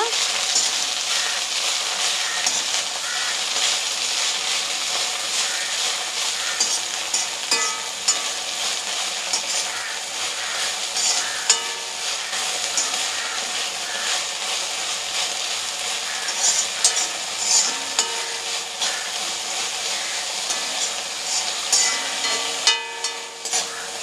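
Mint leaves for pudina pachadi sautéed in a hot pan give a dense, steady hiss of sizzling oil, close and continuous, with faint stirring clicks and scrapes now and then.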